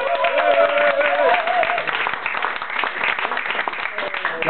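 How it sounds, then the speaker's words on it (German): Applause and clapping from a small live-music audience after an acoustic guitar and vocal song, mixed with chatter and what sounds like a lingering sung or hummed tone early on, moderately loud and close. "Applaus bitte."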